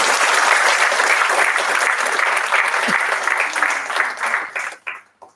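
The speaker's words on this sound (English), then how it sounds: "So a big round of applause to her." A conference audience breaks into loud, sustained applause for a speaker, dense clapping from many hands that gradually thins out and fades at the end.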